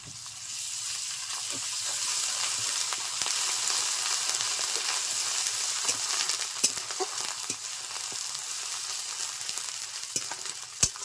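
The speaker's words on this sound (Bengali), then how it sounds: "দু মিনিট আমি নেড়ে চেড়ে নেবো। দিয়ে দিচ্ছি থেতো করে রাখা আদা ও রসুন।" Crushed ginger and garlic fry in a pan for a Bangladeshi-style pangas fish curry. A continuous bright sizzle is broken by scattered light taps and scrapes of a spoon stirring.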